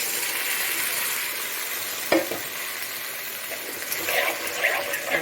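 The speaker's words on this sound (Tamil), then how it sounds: "இந்த ரத்தத்தை வந்து இதில் ஊற்றிடலாம்." Goat blood poured into a frying pan with intestines, hissing steadily under a spoon's stirring, a sharp splash then continued sizzle and scraping close by.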